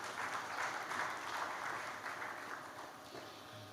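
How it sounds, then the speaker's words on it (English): Conference audience at an African agriculture summit applauding the moderator and panelists: sustained, full crowd clapping at an even level that eases slightly near the end. "can we give our moderator and the panelists a big, big round of applause?"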